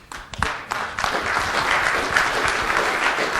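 Scattered applause from a small audience at a briefing, starting with a few separate claps and settling into a thin, steady patter that runs to the end.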